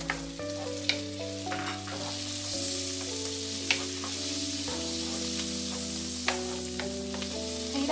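Garlic and mushrooms sauté in a hot pan with a steady sizzle and occasional spatula scrapes, close up, while soft background music plays.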